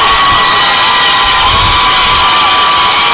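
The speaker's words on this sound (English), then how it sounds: "now the crowd on the Bulldog side is getting into it" Loud football crowd on the Bulldog side cheering and shouting at a high school game, a dense continuous roar filling the whole stretch with swelling bursts.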